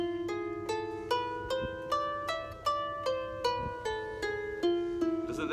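A reconstructed ancient Hebrew cantillation scale rings out as a sequence of about a dozen plucked or struck melodic tones in an even rhythm, each note decaying before the next, clear and close with no talking.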